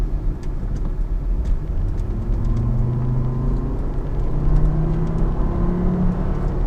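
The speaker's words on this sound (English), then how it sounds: "I want to hear that 5-cylinder again" A 2004 Volvo V70's five-cylinder engine rumbles and whirs as the car accelerates, a steady, rising drone heard from inside the cabin with road noise.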